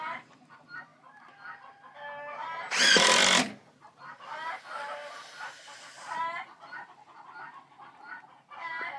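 Chickens squawk and cluck in rapid, agitated bursts, with one loud harsh noise burst partway through and no voices.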